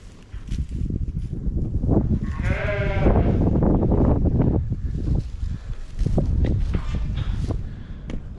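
Sheep bleat repeatedly at close range on a farm while eating alfalfa, several loud calls overlapping with rustling and shuffling hooves in the pen.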